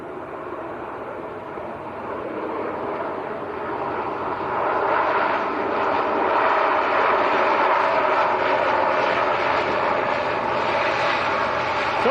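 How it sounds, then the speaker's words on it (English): An Aer Lingus ATR 72 turboprop airliner at Manchester Airport, a steady broadband engine roar that slowly swells and grows louder across the span, heard alone with no talk. "this is Aer Lingus ATR 72"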